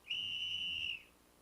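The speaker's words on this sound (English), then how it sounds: "when the referee blew his whistle" One sharp, high-pitched referee's whistle blast at an ice hockey game, lasting about a second, steady and piercing, then cutting off.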